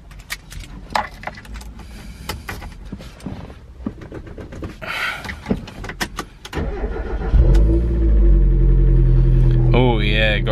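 Keys rattle and clicks sound before a turbocharged Mazda MX-5's engine starts and runs with a loud, steady rumble that builds as the car pulls away.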